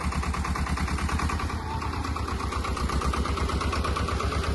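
A tractor engine running at a steady pulsing diesel rumble during corn silage work, loud and close, continuous with no voices.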